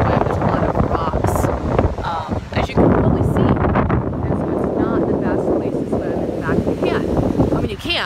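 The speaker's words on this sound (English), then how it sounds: "I hope you can hear me with the wind." Outdoors in Mexico, wind buffets the microphone in a loud, continuous low rumble with gusty surges, while a voice talks over it.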